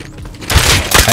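Gunfire in the survival game Rust: loud, dense bursts of shots that start partway through and continue to the end, close and harsh, with no speech.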